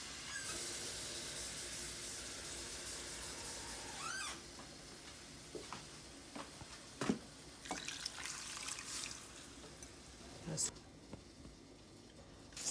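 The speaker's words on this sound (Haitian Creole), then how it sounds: "On va mettre plus de l'eau pour nous." Water is poured into a cooking pot for boiling beef, a hissing pour at first followed by quieter sloshes and clinks while someone talks.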